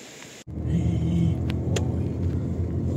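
A loaded car drives through the countryside, heard from inside as a steady low engine rumble and road noise that starts abruptly and continues evenly.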